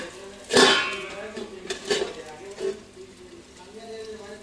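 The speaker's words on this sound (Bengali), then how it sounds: "এখন একটা ঢাকনা দিয়ে দিই।" A lid is set onto a cooking pot in a home kitchen, giving one loud close metallic clank followed by a few lighter clinks and rattles as it settles.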